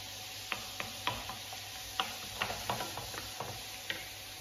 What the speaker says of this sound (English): as our beef is frying